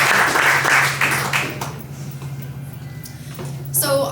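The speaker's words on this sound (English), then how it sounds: "So Joe, another round of applause for Joe." Audience at a poetry reading clapping for the event host, a burst of applause loudest at the start that thins and fades out, with speech mixed in.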